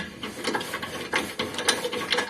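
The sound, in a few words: wrench loosening a shock absorber bolt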